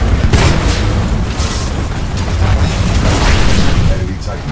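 Enemy Titan blowing up in the Titanfall 2 video game, a loud, dense low boom that rolls on for several seconds amid continuous game action and sustained rumble.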